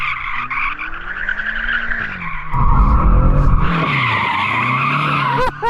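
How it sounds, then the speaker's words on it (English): A BMW M superbike spins its rear tyre in a warm-up burnout, a loud close engine roar rising and falling under long, sustained tyre squeal that swells midway and cuts off sharply at the end. "before we actually do the race, we need to warm up our tyres, so I'm going to warm mine up first"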